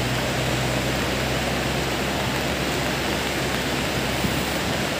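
Lahar floodwater from Semeru surges past in a dense, constant roar, a loud, unbroken rush of churning water and debris with no pauses or speech.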